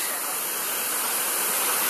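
A small waterfall spilling into the Gokarna water tank in Karnataka, India, giving a steady, close, full rush of falling water that holds unbroken and even throughout, with no voices.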